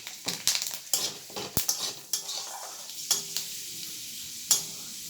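Fenugreek seeds are dropped into hot oil for a dish cooked with fish head and greens, sizzling softly while a utensil scrapes and clinks against the pan in irregular strokes.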